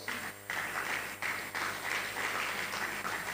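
A dinner audience applauds an honoree, Justice Raman Oshodi, at a law college inaugural dinner, producing a steady wash of clapping that runs the whole stretch with only brief dips.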